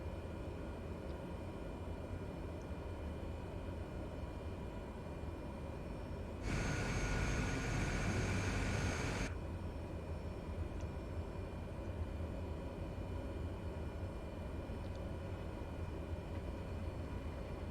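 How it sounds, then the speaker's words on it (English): A Cessna Grand Caravan taxiing in Microsoft Flight Simulator 2020, its turboprop engine giving a steady broadband drone throughout, with a louder rushing surge lasting a few seconds midway. "This aircraft really loves to taxi quite fast."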